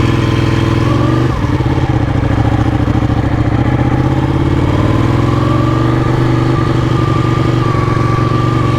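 Ducati Panigale 1199 motorcycle engine heard while riding, a loud steady mid-pitched drone that shifts slightly in pitch as the revs change, continuous close to the microphone.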